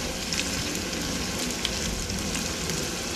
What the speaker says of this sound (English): When you're browning meat,